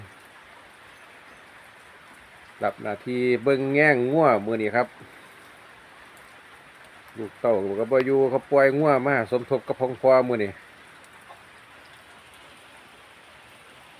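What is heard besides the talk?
rain falling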